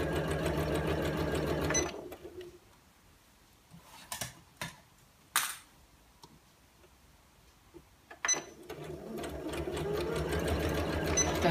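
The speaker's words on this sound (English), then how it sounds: "So I'm using a straight stitch on my machine, and I'm just going to follow the edge with the edge of my presser foot." A sewing machine runs a straight stitch along a cushion cover's edge, the steady motor whir stopping after two seconds, followed by a few isolated clicks and knocks in the pause, then stitching again near the end.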